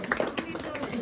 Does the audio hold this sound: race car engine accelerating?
no